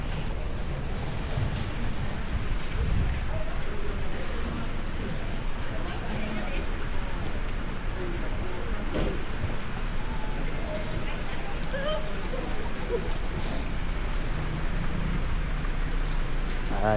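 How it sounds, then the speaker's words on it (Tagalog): Heavy rain suddenly pours down in Auckland, New Zealand, as a dense, steady roar of broadband hiss that holds unbroken for the whole stretch, with faint voices underneath. "Kaya lang biglang bumuhos yung ulan."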